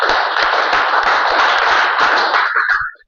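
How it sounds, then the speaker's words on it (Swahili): A church congregation breaks into sustained applause, dense overlapping clapping held steady for nearly three seconds before it quickly dies away, with no talking. "Simpe makofi mazuri."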